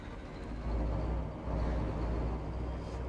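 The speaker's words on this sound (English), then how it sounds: "I love the way this truck sounds." Kenworth truck engine in the American Truck Simulator game, a steady low diesel rumble that swells slightly and holds at an even, close level with no talk over it.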